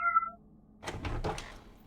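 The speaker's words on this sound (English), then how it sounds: "Other than that cat meowing." A cat gives one short, clear meow in a Resident Evil Zero laboratory area, followed by a few dull thumps and knocks a moment later.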